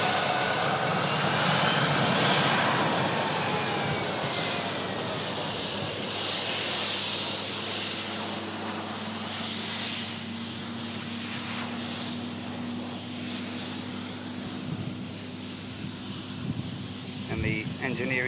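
Jet2 Boeing 757 engines roar loudly and steadily throughout, a broad jet rumble that slowly eases, with a rising whine and a low tonal hum emerging near the end.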